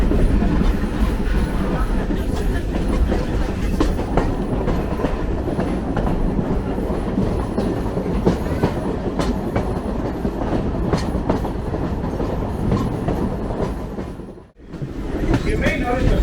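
An excursion train pulled by BR&W No. 60 rolls along the track with continuous rattling clickety-clack and loud rumble, heard close from aboard. A voice talks faintly underneath, and the noise briefly drops out near the end.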